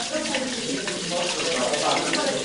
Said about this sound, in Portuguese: Com a força da gravidade, a água chega até essa torneira improvisada, que movimenta o moinho